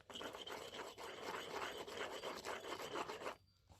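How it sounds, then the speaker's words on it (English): Brake pads and a rotor on a Subaru Forester's rear brakes are scuffed by hand, a close, rhythmic rasping rub in quick repeated strokes for over three seconds, then stopping. "Polish that. Scuff up our brake pads."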